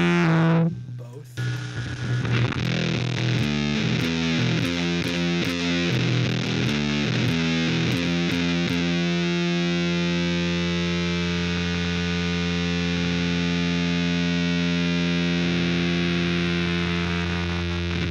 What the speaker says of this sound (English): it's really, really rich distortion that gets very, very